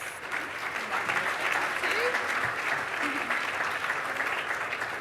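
Sustained audience applause at a 2023 awards ceremony, an even wash of many clapping hands at moderate, fairly distant level, with a faint voice underneath.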